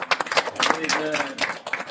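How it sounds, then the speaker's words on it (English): Audience clapping at a National Science Day certificate and medal ceremony, uneven bursts of hand claps with a voice speaking over part of it. "Clap for us, please."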